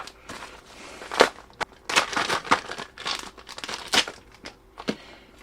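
Plastic mail packaging, a plastic bag and a cling-wrapped plastic box, crinkled and torn open close by in a series of loud, irregular crackling bursts with short pauses between them, and no talking.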